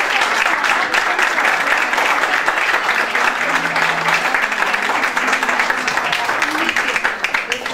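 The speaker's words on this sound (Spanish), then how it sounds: "Un aplauso para mí" Applause from an audience at a carnival press conference, a dense, continuous clapping that stays steady throughout, with a few voices faintly mixed in.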